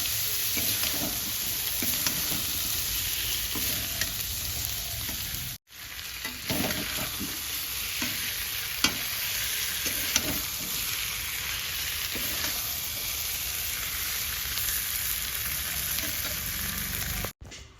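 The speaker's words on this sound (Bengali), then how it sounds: "আলুটা দিয়ে আমি আবার একটু বেশ খানিকটা ভেজে নেব" Boiled potatoes fry with spices for aloo dum in a steady, close sizzle that holds for the whole stretch. Occasional faint stirring scrapes break through, with no talk.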